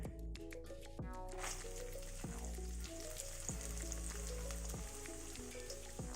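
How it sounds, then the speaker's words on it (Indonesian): Ikan badar fish fry in hot oil with a steady, continuous sizzle, close and fairly quiet, with occasional utensil clinks at the start and no talking. "Terakhir kita goreng ikan badar."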